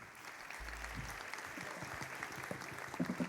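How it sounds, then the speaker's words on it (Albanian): An audience at a concert by the Albanian State Ensemble of Folk Songs and Dances applauds the soloists, sustained clapping at a moderate distance with a faint low thump near the start. "Edhe për solistët shkon kjo duartrokitje normal."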